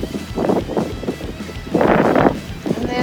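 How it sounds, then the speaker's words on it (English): Wind gusts across a microphone on a beach campsite, rumbling in uneven bursts with a stronger surge in the middle, close and buffeting. "Windy"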